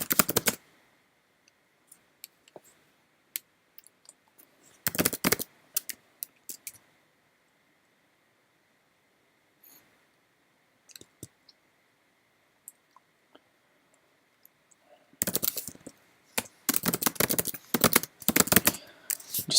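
Sparse clicks from a computer keyboard, with short bursts of rapid typing at the start, middle and end separated by near silence.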